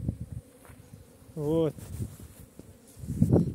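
Honey bees hum around an apiary hive, with a soft, constant buzzing under outdoor rustle, one bee passing close with a brief louder drone; someone says a single word.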